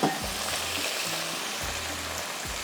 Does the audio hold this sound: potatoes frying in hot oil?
yes